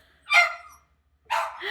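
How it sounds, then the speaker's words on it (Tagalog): A dog barks twice, two short sharp barks about a second apart, close by and fairly loud, in an indoor home setting with no talking. "Yung aso ko maingay na."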